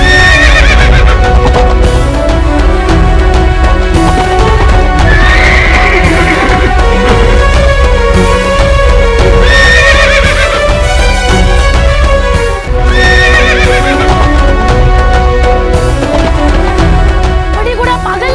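A horse whinnies repeatedly while its hooves clip-clop, loud and close, in a battle drama about Peshwa Bajirao, with dramatic music running underneath throughout.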